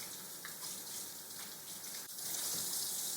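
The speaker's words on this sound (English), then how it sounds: "stick them back under the water and wash the soap off" Steady broadband rush of tap water running into a sink while soapy hands are rinsed under the stream, continuous and close, swelling slightly louder near the end, with no voices.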